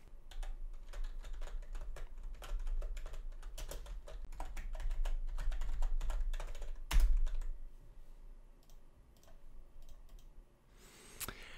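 Rapid, irregular clicking of keys on a computer keyboard, steady and close, with a louder clack near the middle and quieter taps trailing off.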